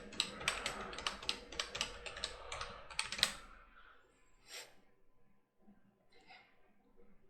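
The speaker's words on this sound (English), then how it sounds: "I'm going to go into here and type in the domain" Rapid keystrokes on a computer keyboard, a quick close burst of clicks for about three seconds, then a few sparse taps and faint background sounds.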